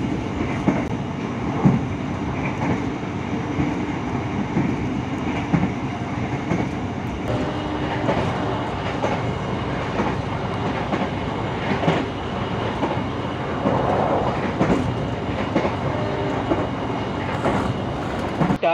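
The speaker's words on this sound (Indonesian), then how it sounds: "untuk kereta api Kamandaka yang saya naiki dengan tujuan ke stasiun Cilacap" Kamandaka passenger train running on rails between Semarang and Cilacap, heard from inside the carriage as a continuous rumbling roll with rhythmic clickety-clack of wheels over rail joints, steady and close throughout.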